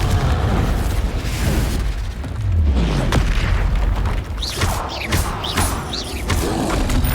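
A Confringo spell exploding in the video game Hogwarts Legacy, a loud booming blast with rumbling low debris, followed by a run of further crashing magical impacts and whooshes in dense combat noise.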